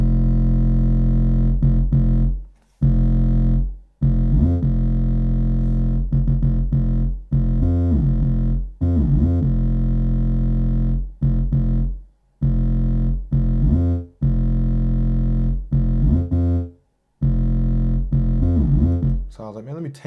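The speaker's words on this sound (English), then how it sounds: "It's the analog Fatso bass preset" Analog Fatso synth bass preset in a New Era 808 style: a loud, heavy, distorted low bass playing sustained notes broken by short drops to silence, with no mixing or compression.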